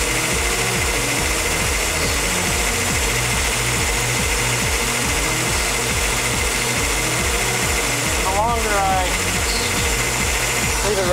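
A running HHO hydrogen generator fills the scene with a steady rhythmic mechanical chugging and buzzing hum, close and continuous, while someone talks over it.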